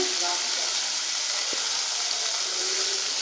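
Tomatoes drop into hot oil in a frying pan, setting off a loud, steady sizzle that fills the whole stretch, with a brief clink partway through.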